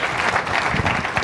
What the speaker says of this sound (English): And those applause are for Dean Kamen, an extraordinary man.